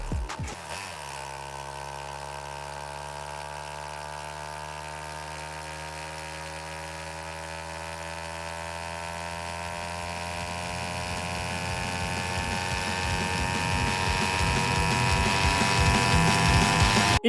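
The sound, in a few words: high-pitched car engine, video game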